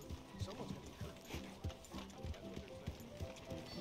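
Horse hooves clip-clop in a steady, even trot in Red Dead Redemption 2, the game's sound kept faint and low under the players' talk.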